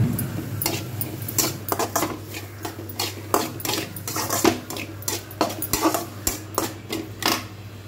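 Brinjal frying and being stirred in a pan with a little salt, a busy, rhythmic series of metal spoon scrapes and clanks against the pan over a low sizzle, close and steady throughout.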